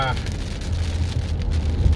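Heavy rain from a summer storm drums on a car while recorded from inside, a steady dense wash over a deep rumbling low hiss, fairly loud and continuous.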